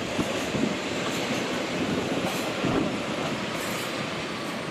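A train rolls along the rails in a loud, steady rumble heard from on board, with a dense mechanical roar and faint rhythmic clatter throughout, and no voices.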